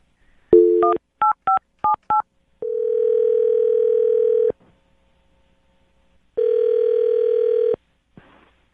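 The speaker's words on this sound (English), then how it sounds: "I'm going to dial his phone number right now" A phone is dialed: four or five quick touch-tone beeps, then a steady ringback tone that pauses and sounds again, close and clean with no talk over it.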